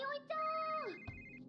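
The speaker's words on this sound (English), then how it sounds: "Oh, it's still ringing." Cell phone ringtone in an anime episode, a steady electronic melody of sustained tones that drops off and then resumes more faintly, with brief soft voices underneath.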